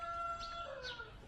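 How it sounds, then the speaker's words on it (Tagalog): Chickens packed in boxes, heard as faint, distant clucks and a short crowing call over a steady tonal background hum. "may 7 kahon pa sa gilid na may laman ding manok"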